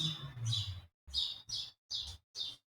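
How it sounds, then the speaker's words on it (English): Birds chirping outdoors in four or five quick, bright bursts separated by brief pauses, with a voice talking at the start. "Hold on, let the birds finish."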